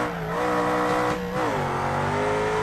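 A BMW 5 Series fitted with an M62 engine revving in the BeamNG driving game, a continuous engine drone whose pitch climbs, dips briefly, then rises again as it accelerates, loud and steady with no talking.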